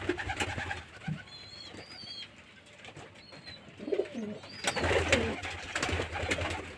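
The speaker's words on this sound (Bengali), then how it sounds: "পায়রা দেখেছেন পুরো ফিট আছে, ফিট অ্যান্ড ফাইন" Pigeons in a loft where eggs and chicks sit in each nest coo in low, soft bursts, mixed with scattered chirps and occasional wing flutters nearby.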